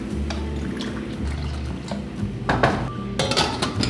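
Dry quinoa is washed in a pot with water, with continuous close clattering of the pot and swirling, sloshing water, plus sharper bursts of splashing and metal knocks toward the end.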